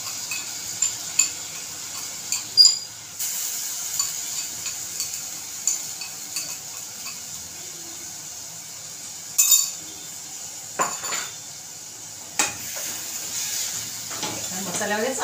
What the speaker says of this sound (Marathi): तर आपल्याला हे मॅरिनेट केलेला सोयाबीन टाकायचं आहे. याच्यात चांगलं परतून घ्यायचं आहे.